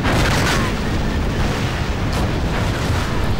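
Tanks exploding in the video game Wargame European Escalation, a loud dense rumbling blast that fills the whole stretch with sustained booming noise.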